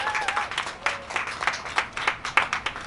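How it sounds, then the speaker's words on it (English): A crowd at an outdoor vegan festival claps for a longtime vegan, with sparse, uneven individual claps rising and falling rather than a dense roar, a few hands standing out near the microphone. "Big round of applause."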